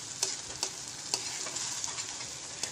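Spice paste (wet masala for katachi aamti) fries in oil in a pan with a steady hiss, with a few soft stirring scrapes now and then and no voices.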